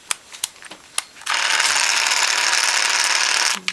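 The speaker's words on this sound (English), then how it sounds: "The motor's too slow." A small motor salvaged from a printer, built to drive the print head back and forth, whirs steadily for about two seconds after a few sharp clicks, fairly close and with no talk over it.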